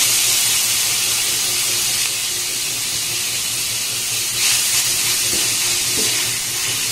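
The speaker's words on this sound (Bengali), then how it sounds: "এবার এই পনিরটাকে একটু নাড়াচাড়া করে ভেজে নেব" Paneer fries in a little hot oil with a steady, loud, close hiss and sizzle that stays even throughout, and a couple of faint stirring touches near the end.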